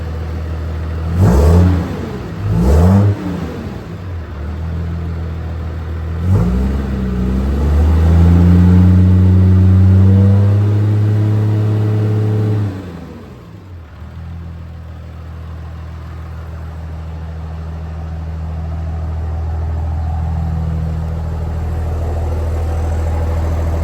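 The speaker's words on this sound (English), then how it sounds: "I really do like the exhaust note." A 6.7 Cummins diesel truck fitted with an Aero Turbine-XL muffler revs sharply twice, then holds a longer loud rev before dropping to a deep, steady idle that swells slightly toward the end.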